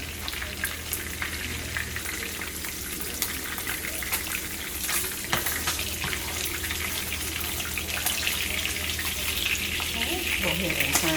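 Trout fillet pan-searing in hot oil, a continuous crackling sizzle with fine popping spatters and a low steady hum underneath, close and even throughout, no talking.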